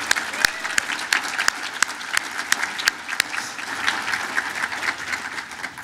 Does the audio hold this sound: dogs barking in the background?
no